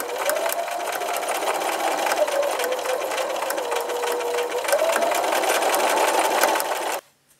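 A sewing machine runs steadily for about seven seconds, back-tacking and stitching a wavy table runner, with a continuous close whirring hum and small speed shifts before it stops abruptly.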